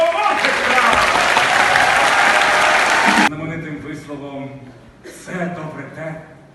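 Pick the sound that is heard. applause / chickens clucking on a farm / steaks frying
applause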